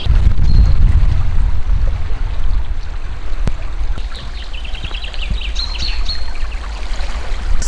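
River water runs steadily around a tree stump, a continuous close broadband rush and trickle that swells loudest at the start, with faint bird chirps high above it.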